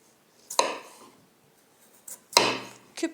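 A knife cuts potatoes into small cubes on a board, giving two crisp chopping strikes about two seconds apart, each trailing a short scrape, and a third starting at the end.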